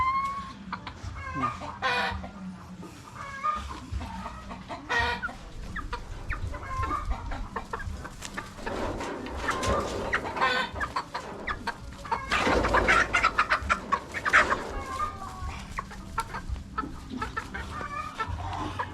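Chickens cluck and chatter continuously, several birds close by, with occasional sharper squawks and a crow-like call mixed in.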